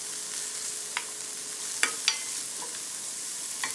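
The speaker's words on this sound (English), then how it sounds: "I'm going to let the onions saute a little." Onions sauteing in a pan for a quiche give a steady, soft sizzle with a few faint clicks and taps from utensils, close by and alone with no talk.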